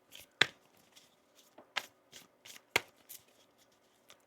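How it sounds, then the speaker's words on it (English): Tarot cards are shuffled by hand in a quiet room, giving a series of crisp riffling bursts and soft slaps spaced irregularly, close and clear against near silence. "One more shuffle here."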